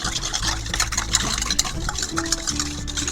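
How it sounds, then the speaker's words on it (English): A whisk beats salad dressing of shoyu and cider vinegar in a bowl, giving a fast, busy run of close metallic clinks and swishing scrapes throughout. "Give that a whisk."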